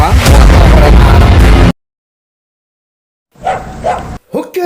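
Street dogs in Hukkeri town: a loud, harsh burst of noise, then sudden silence, followed by a couple of short, sharp barks close by near the end.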